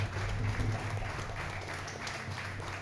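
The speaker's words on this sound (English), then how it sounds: "Please give a big round of applause, everyone" Audience applause at a temple stage event for a skit performance, a steady wash of clapping over low hum, moderately distant and sustained throughout.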